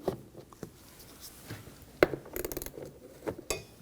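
A 13mm socket ratchet loosens wing nuts on a 2007-2013 BMW X5 in short bursts of clicking, close and fairly quiet, with scattered taps and handling noises between them.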